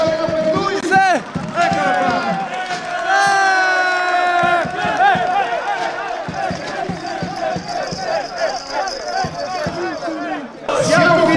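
A crowd at a football team's celebration cheers and shouts loudly, with whistles and scattered clapping, while a voice speaks over the din.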